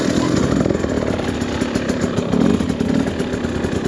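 A brand-new 2024 TE300 two-stroke dirt bike engine runs loud and close, a continuous raspy buzz with rapid pulsing as the ride gets under way.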